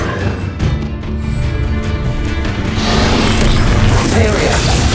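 Spell blasts from Hogwarts Legacy crash and boom one after another, loud and close, building into a dense, sustained barrage of bursts toward the end.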